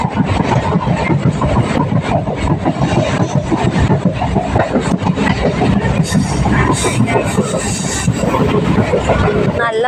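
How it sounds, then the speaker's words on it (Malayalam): Inside a moving train, a steady loud rumble of wheels and carriage fills the whole stretch, with dense rattling and clatter and no break in the noise. "നമ്മളിപ്പോൾ ട്രെയിനിലാണ്"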